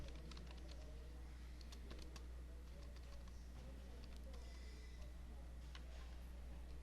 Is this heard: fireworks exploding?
no